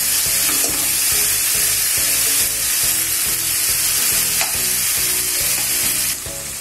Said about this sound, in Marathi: आपला कांदा चांगला परतला गेलाय।